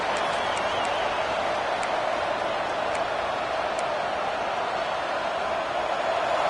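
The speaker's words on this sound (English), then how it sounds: "And this crowd coming to life here, trying to help the defense get a stop with the offense pinned back." A football stadium crowd at an LSU versus Texas A&M game roars in a steady, dense wash of cheering and noise that holds for the whole stretch, with faint scattered whistles or shouts above it.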